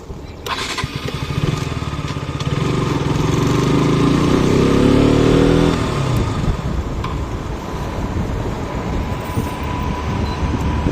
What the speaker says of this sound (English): So many heavy vehicles here.